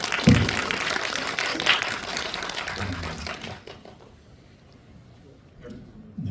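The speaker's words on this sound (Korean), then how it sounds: "박수 한번." Audience applause at a film screening Q&A swells briefly from the crowd, loud for the first few seconds and then thinning and fading out, leaving quieter room noise and stray sounds.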